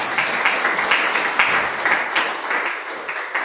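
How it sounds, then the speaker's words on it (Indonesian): A church congregation claps together, a bright, busy patter of applause with no one speaking, sustained from start to finish. "Beri tepuk tangan."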